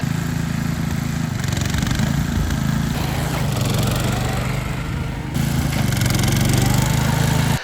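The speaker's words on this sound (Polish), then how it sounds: "po samym silniku jak tak dynamicznie włączymy mu napęd na tylne koła, słychać, że ewidentnie spada on z obrotów" A Wolf Garten Scooter SV4 ride-on lawn mower engine runs loudly and steadily, its pitch dipping as it strains and loses revs when rear-wheel drive engages, before picking back up.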